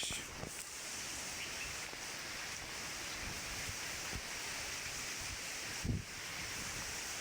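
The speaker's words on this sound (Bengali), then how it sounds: "অনেক বাতাস," Strong wind blows steadily outdoors on a dusty day, roaring across the microphone with broadband rumble and a brief louder gust near the end, with no talk.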